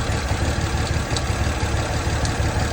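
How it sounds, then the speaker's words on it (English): An idling BMW 335xi engine rumbles steadily close by, with a few faint, sparse clicks riding on top of the low drone. "Whatever that little clicking noise is"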